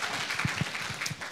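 A church congregation claps during an Indonesian online worship service, light scattered applause at a moderate distance, fairly soft and brief with no talk over it.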